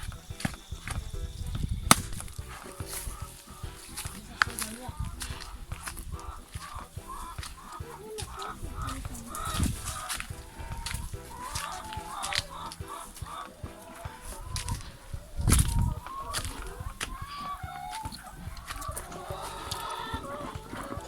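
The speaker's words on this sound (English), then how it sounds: "this is a chicken coop. This is how we raise chickens." Free-range organic chickens cluck and a rooster calls inside a backyard coop in rural St. Ann, Jamaica, a steady busy flock chatter running throughout at moderate distance with occasional louder squawks.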